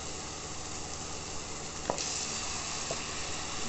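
Ground jackfruit seed paste hitting a hot pan, a steady loud sizzle and hiss with a couple of brief stirring clinks, no voices.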